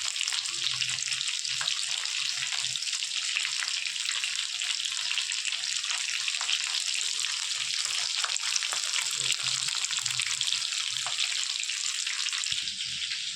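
Food for butter chicken fries in a pan with a steady, close sizzle and crackle that runs unbroken throughout.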